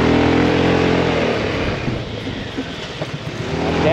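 A BMW C400GT scooter rides along while its front ABS braking is tested, the engine and wind roar falling away as it slows, then swelling again as it accelerates.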